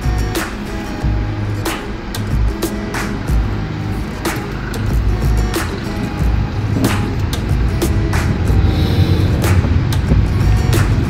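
Heavy Delhi road traffic heard from inside a cab, a loud, steady engine and road rumble with repeated sharp knocks and thuds. No one speaks.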